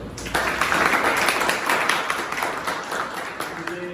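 A group of students applauds a classmate selected for a clerk job, a dense, steady round of clapping that carries on evenly for several seconds.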